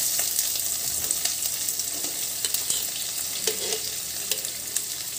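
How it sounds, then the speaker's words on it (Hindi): Onions frying in hot oil with a pinch of hing for a curd bitter gourd dish, a steady close sizzle broken by spoon stirs and scrapes, no talking. "अब इसमें हम ये प्याज डाल देंगे"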